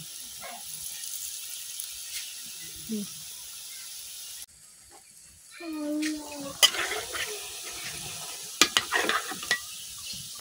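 Palm fruit fritters (taler bora) frying in hot oil are turned over, giving a soft sizzle, then scraping and stirring clatter with a few sharp knocks of the utensil against the pan.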